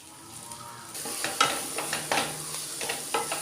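Chopped onion and tomato sautéing in a pan, a steady sizzle with repeated scrapes and stirring strokes, near and moderately loud, with no talking.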